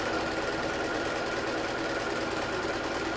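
A domestic sewing machine runs continuously through free motion quilting on a large quilt, a steady close whirring hum with dense rapid needle chatter that never pauses.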